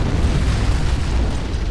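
An antimatter charge explodes in the video game Halo as a loud, dense roar of rumbling noise that fills the whole span without a break.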